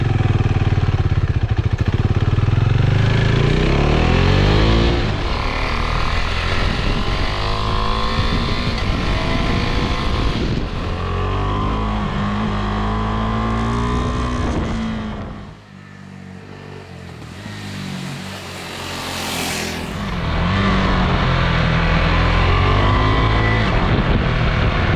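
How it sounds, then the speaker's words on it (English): KTM 390 Adventure motorcycle with a 45-horsepower engine, ridden on the road: a loud, continuous engine drone with shifting pitch and heavy wind rush, dipping briefly mid-ride before rising again, with no speech. "Primii kilometri pe KTM 390 Adventure și sunt impresionat, adică avem un motor de 45 de cai putere"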